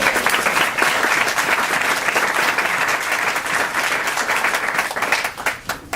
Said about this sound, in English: So first of all, round of applause for our sponsors.